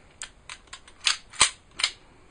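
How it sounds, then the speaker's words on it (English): The slide of a Tanfoglio Limited Custom air pistol is racked back in a quick series of sharp, close mechanical clicks and snaps, with one louder crack near the middle. "pull the slide all the way back"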